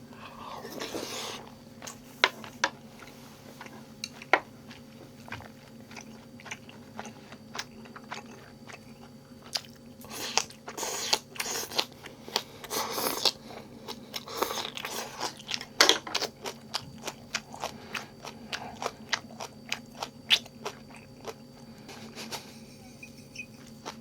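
Spicy green onion kimchi is eaten close to the microphone, with repeated wet crunches and chewing bites in an irregular rhythm over a steady low background hum, and no talking.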